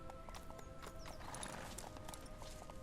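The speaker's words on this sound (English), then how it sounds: "And he makes a donkey noise." Hooves clip-clop steadily beneath a donkey-like bray in a video game, a brisk rhythmic trot of hoofbeats layered with a braying call over constant background game sound.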